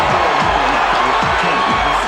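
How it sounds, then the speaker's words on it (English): A boxing arena crowd roars and cheers steadily as spectators rise to their feet during a first-round knockdown, a dense, loud wash of voices with scattered whoops throughout. "this crowd rises to its feet and looks for the first round knockout"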